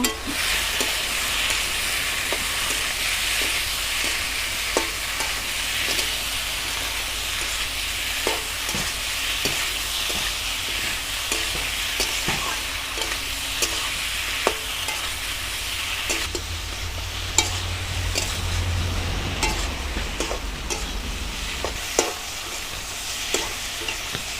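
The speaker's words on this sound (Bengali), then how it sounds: "এবার দিয়ে দেবো ভেজে রাখা পটল আর আলু এবার নেড়ে চেড়ে দেবো" Fried pointed gourd and potato pieces are stirred in a sizzling pan, with a continuous close frying hiss broken by regular spatula scrapes and knocks against the pan, and no talking.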